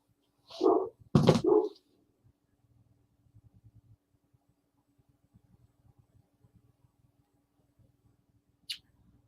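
A big dog lets out a short cluster of loud, close barks at the start, then the scene goes mostly quiet with a faint low hum and scattered small noises, plus one brief sharp sound near the end.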